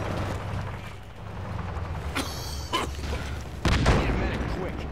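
Frag grenade going off in Battlefield 2 Project Reality during a co-op firefight, a sharp blast with a deep boom and scattered gunfire around it, heard under continuous radio chatter and shouting players.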